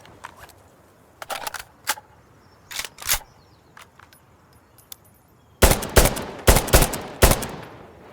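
Weapons in Insurgency Sandstorm being reloaded: a run of sharp metallic clacks and clicks, scattered and fairly faint at first, then a denser, louder cluster of mechanical snaps near the end.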